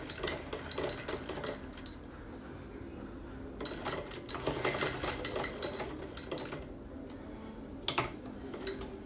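A sewing machine stitching fabric for a hair scrunchie, with faint quick bursts of rapid clicking stitches in short runs and small pauses between them, heard close up at low volume.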